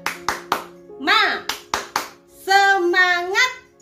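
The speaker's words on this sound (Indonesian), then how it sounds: "Tepuk semangat." Children at an online Sunday school do a rhythmic cheer clap, with sharp hand claps in short bursts alternating with sung or chanted voices that come in between and after the claps.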